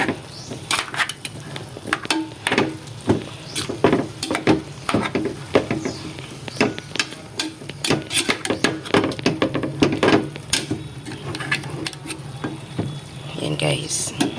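Pork adobo with dried fish being stirred in a pan, a steady run of close scraping and clinking strokes over a soft sizzle, the rhythm irregular and repeated throughout.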